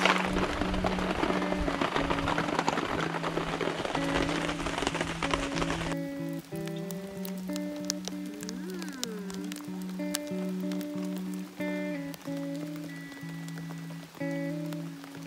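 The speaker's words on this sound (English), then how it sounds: "It's still pouring the rain." Heavy rain pours steadily on a campsite during a storm in Guam, dense and close at first, then eases into a softer patter with droning hums running underneath throughout.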